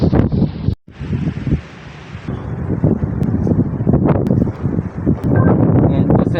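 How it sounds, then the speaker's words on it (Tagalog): Strong wind roars and buffets the microphone continuously in Venice, Italy, with a brief dropout near the start, and faint voices buried under the gusts. "Lakas ng hangin."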